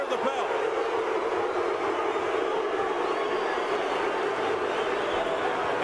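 A loud crowd at a boxing match between Jean Pascal and Bernard Hopkins roars in a continuous, dense wall of noise with no breaks.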